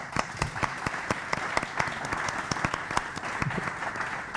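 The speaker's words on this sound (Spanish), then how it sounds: "un aplauso, Bernasmún" Applause at a Startup Grind Barcelona talk, honoring the catering firm Falca Publicitaria: a steady crowd of hands clapping with sharp, dense individual claps throughout, fairly close and loud, with no talk over it.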